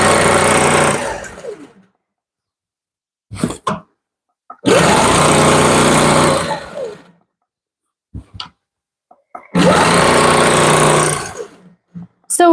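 A sewing machine stitches a wedding ring quilt in three sustained, fairly loud runs of steady motor whirring, separated by near-silent pauses with faint handling clicks.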